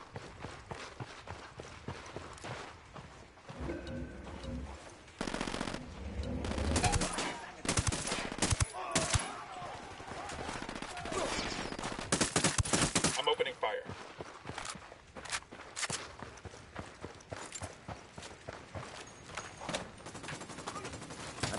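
Gunfire in the video game Ghost Recon Wildlands: loud bursts of automatic fire and rapid shots come in clusters mid-clip, then sparser cracks, mixed with game sound effects and occasional voices.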